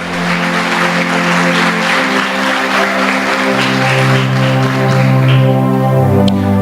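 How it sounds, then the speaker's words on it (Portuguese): A church congregation applauds for several seconds during an evening service, dense clapping sustained throughout with a steady sustained musical tone underneath, fairly loud. "eu quero que você aplaude o Senhor Jesus"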